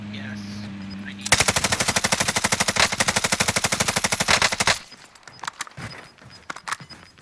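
Automatic gunfire in a first-person shooter video game: a long rapid burst of close, loud shots for about three and a half seconds, then scattered lighter impacts and clicks in a quieter background.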